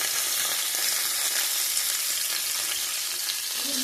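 Chili-rubbed mackerel fries in a pan with a steady, close, even sizzle that holds unbroken throughout, with no voices.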